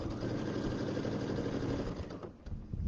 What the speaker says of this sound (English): I want to sew over my ribbon.